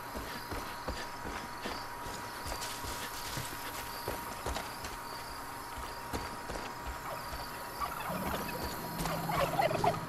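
Turkeys gobble in the video game Far Cry 5, a soft, busy chorus of gobbling mixed with clip-clopping steps and game ambience, fairly faint throughout.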